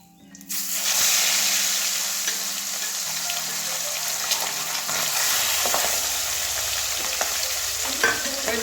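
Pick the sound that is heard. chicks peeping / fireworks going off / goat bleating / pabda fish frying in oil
pabda fish frying in oil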